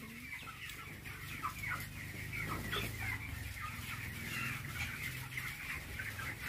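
Broiler chickens on an antibiotic-free farm cluck steadily in a continuous overlapping chorus, moderately close, with no talk over them.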